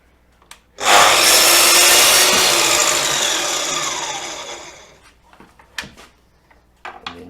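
A Festool miter saw slices through wood in a workshop, a loud sustained whining cut lasting about four seconds that fades as the blade spins down, with small clicks and knocks before and after.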